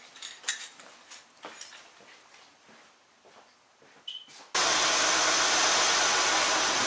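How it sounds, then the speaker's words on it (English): A 1998 Acura CL V6 engine cranks and catches, bursting into a loud, steady idle roar after a few seconds of quiet clattering and handling sounds close by. "Let me start the car."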